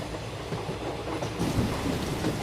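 A train rolls into Sahebganj station in the rain, a brief dull rumble that swells slightly amid a steady rain-like hiss, with no voices.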